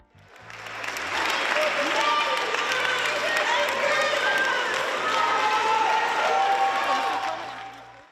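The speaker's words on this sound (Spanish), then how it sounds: "fue aplaudida ayer a la salida de la corte" A crowd outside a courthouse applauds a woman as she leaves, dense clapping that swells in, holds strong and full for several seconds, then fades, with voices mixed underneath.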